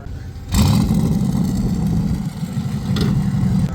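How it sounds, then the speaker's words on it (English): A loud Nightmare Garage drag racing car sits idling at a heads-up drag racing event, its engine bursting in abruptly and then holding a rough, throbbing, lopey rumble, close and loud with no talking. "this thing right here is the loudest car by far on the property"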